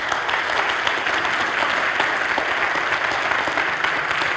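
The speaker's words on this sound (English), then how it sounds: "Give them a round of applause." Audience at an event about work in Ghana giving a sustained round of applause, dense even clapping that stays loud and steady throughout with no talk over it.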